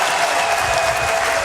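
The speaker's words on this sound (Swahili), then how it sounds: "Makofi mengi kwake." A crowd at a Young Africans club meeting in Dar es Salaam claps for the regional commissioner, dense steady applause filling the hall throughout.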